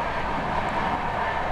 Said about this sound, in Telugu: ఇది క్రాసింగ్ విత్ పల్నాడు ఎక్స్ప్రెస్.